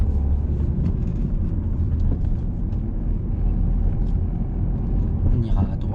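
A car pulls away and speeds up during a driving lesson, its engine rumbling steadily close by as the gear moves up into third, with an instructor and learner talking over it.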